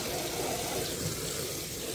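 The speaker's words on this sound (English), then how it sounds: "You can see it literally just comes right off with the water." Running water rinses screen printing ink off a mesh screen, a steady broadband gush with a sink-like spray that holds constant and fairly close for the whole stretch.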